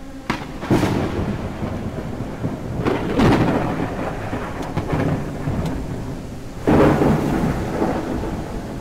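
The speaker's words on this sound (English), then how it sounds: "It's raining on me." Steady rain falls while loud thunder cracks and rumbles several times in a backrooms-style video game, with sharp bursts near the start and a heavy clap toward the end.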